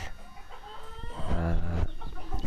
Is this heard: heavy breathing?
no